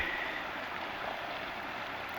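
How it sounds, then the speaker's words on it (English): A stream feeding a local creek that was affected by acid mine drainage flows steadily, a continuous broad rushing wash, fairly close and even throughout with no talking. "This is another continuation of the stream that feeds the local creek"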